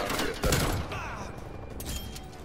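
Gunfire rattles in Call of Duty Black Ops Cold War, a burst of rapid shots up front followed by continuing muffled firing and mechanical clatter, fairly quiet overall.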